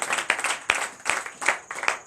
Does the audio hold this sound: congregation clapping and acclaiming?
yes